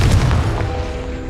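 A Confringo fire curse explosion in the Hogwarts Legacy video game: a deep, heavy boom that rumbles and slowly fades over about a second.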